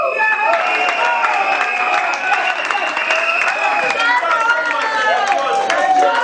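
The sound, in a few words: audience applauding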